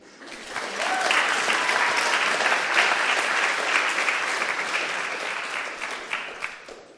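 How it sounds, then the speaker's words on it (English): Audience applause at a 3D environment art panel for video games, a steady full round of clapping from a crowd that swells quickly, holds for several seconds and tapers near the end. "So let's have another round of applause,"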